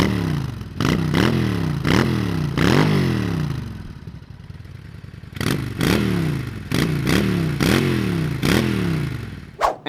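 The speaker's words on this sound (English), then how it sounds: "how about we have a listen to the sweet, sweet symphony of this little V-twin" A Honda Shadow 750 V-twin motorcycle engine with stock exhaust blips its throttle repeatedly, loud and close, with rhythmic revs separated by a brief lumpy idle.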